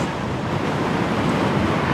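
Wind buffeting steadily against the microphone while riding an e-bike, a loud, constant rushing roar with no pauses and no voices.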